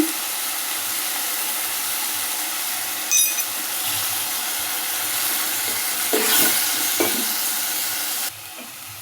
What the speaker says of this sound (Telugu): పచ్చి వాసన పోయేదాకా మనం కలుపుకోవాలి బాగా అల్లం పేస్ట్ కూడా వేసుకోవాలి